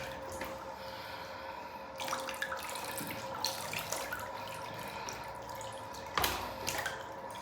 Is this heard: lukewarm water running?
yes